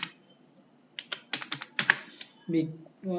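Quick, close clicks of typing on a computer keyboard, a run of keystrokes in an irregular rhythm, with brief speech in between.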